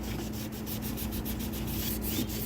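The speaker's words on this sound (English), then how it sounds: "And I'm not scrubbing, I'm just rubbing." Steady, close rubbing scrapes loose old paint from the window grooves of a cargo trailer being prepped for an RV side window, a continuous gritty abrasive sound with a quick repeated back-and-forth rhythm.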